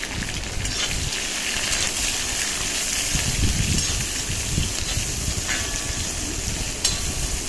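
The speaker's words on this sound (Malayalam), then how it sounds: "പച്ചമുളക്, സവാള എണ്ണയിലേക്കിട്ട് നന്നായിട്ടൊന്ന് വഴറ്റുക" Green chilies and sliced onion sauté in hot oil for an ivy gourd stir-fry, sending up a continuous close sizzle with rustling stirs and scraping against the pan.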